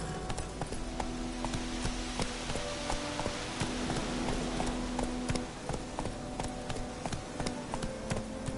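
Hooves of Roach, the horse in The Witcher 3, clip-clop in a fast, steady gallop against a continuous wash of outdoor ambience, with no talk.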